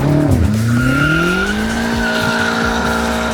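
A sports car drifts sideways with a long, loud tire squeal that glides in pitch, the engine droning underneath and the car staying close throughout, with no talking.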